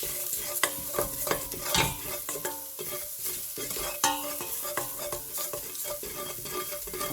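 Spices such as pepper, turmeric, cinnamon and paprika frying in a pan for keema madras, a close sizzle under repeated scraping and clacking stirring strokes, no talk.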